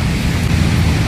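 Steady, dense rain falling outdoors during a jog, a continuous broadband wash with a low rumble underneath and no voices.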